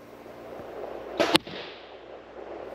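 An archery shot at a target: a sharp snap of the bow release followed almost instantly by a crisp thwack, both close and alone against quiet outdoor background.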